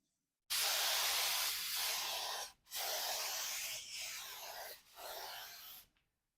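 Paint sprays onto an automatic transmission in three long, steady hissing bursts separated by brief pauses, close and continuous.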